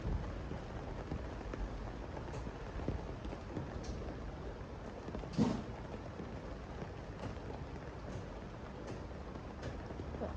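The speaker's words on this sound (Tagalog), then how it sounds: "umuulan guys" Steady rain patters continuously, fairly quiet and even, with one brief louder knock partway through.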